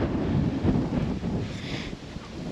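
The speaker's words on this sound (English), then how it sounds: "Oh, it's really windy." Strong wind buffets the microphone beside the water on the Norfolk Broads, a steady low roar with gusts swelling and easing throughout.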